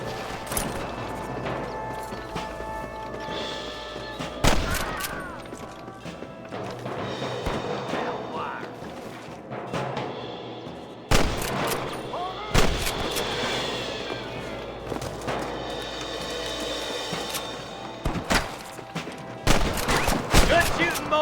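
Gunfire from the video game Red Dead Redemption, with repeated sharp shots and bursts of fusillade at irregular intervals over a busy game soundscape, loud and punchy, with occasional voices between the shots.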